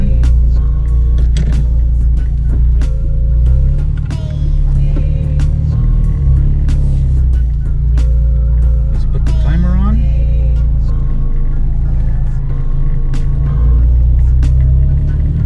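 An Acura RSX Type S on a race track, heard from inside as a loud, steady engine drone and road rumble throughout, with brief rises in engine pitch as it accelerates.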